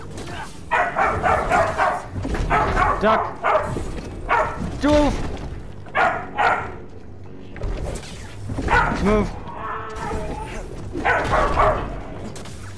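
Holly the dog barks and yips in repeated bursts, close and loud, alternating with someone talking over the noise.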